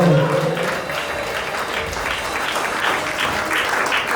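A church congregation applauding at a worship gathering, a dense, sustained wash of many hands clapping close by, holding steady for the whole stretch with a voice briefly heard at the start.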